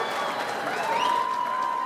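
Audience applause at a community college commencement ceremony, a steady wash of many hands clapping at moderate distance for about two seconds, with a faint voice or tone drifting over it.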